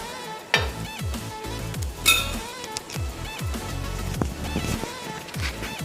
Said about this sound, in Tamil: இப்போ நம்ம தவா வச்சு ஃப்ரை பண்ணி எடுத்துக்கலாம்